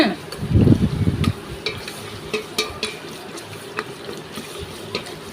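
Chicken curry ingredients frying in a pan, with a low sizzle under repeated scraping and stirring clicks and knocks, a heavier clatter of stirring near the start, then sparse, evenly spaced scrapes.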